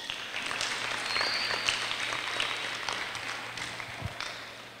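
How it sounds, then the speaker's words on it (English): A school audience applauds motivational speaker Ralph Maraj, steady moderate clapping from a crowd at some distance, fairly soft and continuous for several seconds. "could you give a hearty round of applause of thankfulness to Mr. Ralph Maraj"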